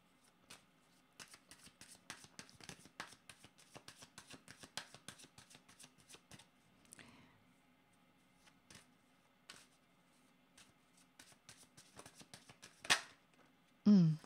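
Tarot cards being shuffled by hand in a quiet room, a rapid series of soft crisp riffles and taps for several seconds, then a few scattered card handling sounds.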